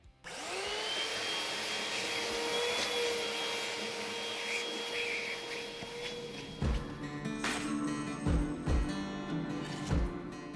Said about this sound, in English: You'll want to vacuum this up every once in a while so you can see the spots that you missed.